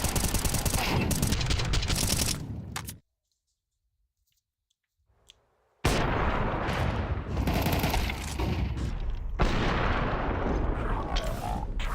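Heavy automatic gunfire in a Counter-Strike match, loud dense bursts, then about three seconds of silence, then sustained rapid fire again.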